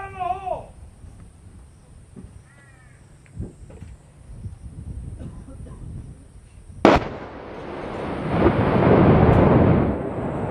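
Marines' explosive ordnance disposal team sets off a detonation outdoors: quiet field noise with faint distant voices and bird calls, then one sharp, loud blast whose heavy rumble swells and rolls on for several seconds.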